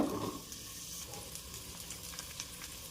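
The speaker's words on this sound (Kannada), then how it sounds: "ಈರುಳ್ಳಿ ಮೆಣಸಿನ್ಕಾಯಿ ಎಲ್ಲ ಹುರ್ಕೊಬೇಕು. ಅದು ಹುರ್ಕೊಳ್ತಾ ಇದ್ದೀನಿ." Onions and green and dried chillies fry in a spoonful of oil for mutton curry, a steady close sizzle with a louder burst at the start, then a continuous even crackle with no talking.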